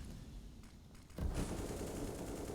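Rapid bursts of gunfire erupt midway through a Counter-Strike match, loud and dense after a quieter stretch, with scattered shots before the main volley.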